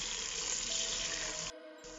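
Locust bean and onion frying together in a pot for efo riro give a steady, close sizzle that cuts off abruptly partway through, leaving a quieter hiss.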